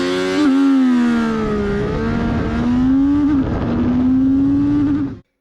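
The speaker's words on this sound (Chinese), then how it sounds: "那咱们还是先测它的百公里加速啊" A CFmoto 675SR-R motorcycle accelerating flat out from a standstill on a closed flat road, engine pitch climbing, dropping at a gear change and climbing again, loud and close before cutting off abruptly.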